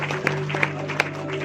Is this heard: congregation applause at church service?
yes